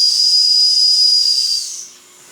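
Antique Jensen or Wilesco toy steam engine releasing steam, a loud close hiss with a sharp whistling edge that holds steady and then trails off quickly at the end, with no voices.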